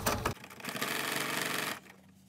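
A sewing machine stitches the facing on an art quilt, a close, rapid, even mechanical whir running for about a second and a half before stopping.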